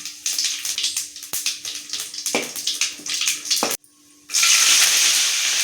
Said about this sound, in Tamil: எண்ணெய் சூடு எரிச்சு கடுகு சேர்த்துக்கலாம் காஞ்ச மிளகா ஒரு பத்து எடுத்து வச்சுக்கிறேன் அதையும் இதில் சேர்த்துக்கலாம் சீரகம் கொஞ்சம் சேர்த்துக்கலாம்